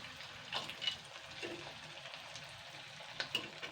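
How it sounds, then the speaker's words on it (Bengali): Mung pakon pitha deep-frying one at a time in oil over medium heat, with a soft steady bubbling sizzle and a few brief louder spits and clinks, no talking. "একটা একটা করে ভেজে ভেজে তুলব। এটা কিন্তু মিডিয়াম আঁচেই করতে হবে"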